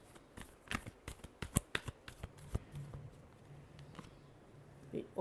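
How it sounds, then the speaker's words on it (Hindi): Tarot cards are shuffled up close in a quick series of crisp, uneven riffles and snaps, fairly soft overall, with a brief murmur of voice in the background. "last shuffle"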